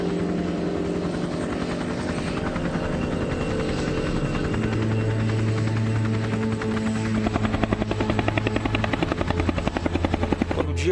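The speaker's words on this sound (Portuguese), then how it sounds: "começou a chegar o helicóptero" Helicopter arriving at a remote farm during a rescue after a Varig plane crash, its steady rotor thrum and engine hum continuous throughout, growing louder and more pulsing toward the end as it draws near.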